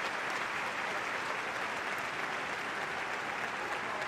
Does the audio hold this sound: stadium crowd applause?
yes